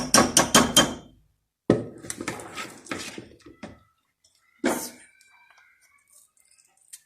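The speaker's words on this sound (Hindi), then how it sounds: "चूल्हा मैंने जला दिया है, अब मैं घी डालने लगी 2 चम्मच" Ghee spooned into a pan on a lit stove while cooking methi chicken: a quick run of close metallic clinks and taps from spoon against pan, then scattered scraping knocks and one more sharp clatter before quiet.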